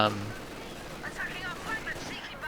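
Machine gun fire from an MG team in Company of Heroes 2, a World War II strategy game, rattling in rapid bursts at mid distance with a steady battle din beneath it.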